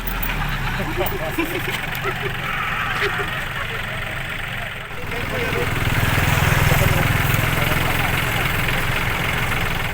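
A tractor engine runs steadily while ploughing a wet rice field in Aceh Jaya, a loud mid-pitched chugging that grows louder about halfway through, with voices talking over it.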